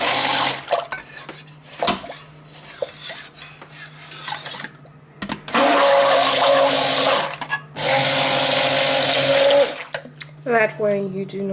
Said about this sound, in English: give it a quick whiz with the stick blender